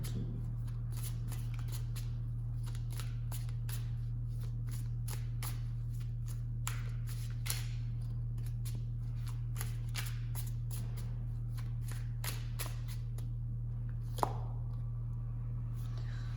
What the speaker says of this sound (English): Now let me just pick up an advice for you from the tarot cards.